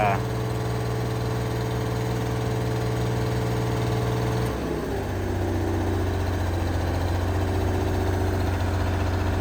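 Small construction machine's diesel engine running with a bad injector, a loud steady idling drone with a strong low hum that shifts pitch partway through, close and continuous, with a voice over it.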